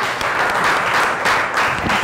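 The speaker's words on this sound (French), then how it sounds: "Sous vos applaudissements, s'il vous plaît." A seated audience at a youth leadership and entrepreneurship training event applauds steadily, a dense wash of clapping held throughout without speech.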